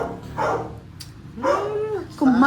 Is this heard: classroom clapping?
no